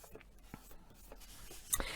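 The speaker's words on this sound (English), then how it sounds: "along the bottom of that flap and just burnish with my bone folder." A bone folder rubs along a paper card flap, burnishing it with soft, faint scraping strokes in a quick series. A louder rustle comes near the end.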